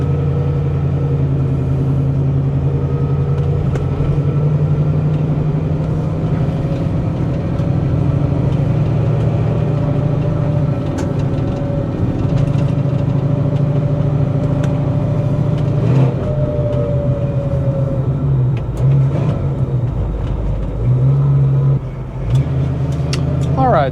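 A 1968 Ford Mustang Coupe with a stock 289 V8 and automatic transmission drives along, its low engine drone steady and close from inside the cabin, with brief shifts in pitch and occasional knocks near the end.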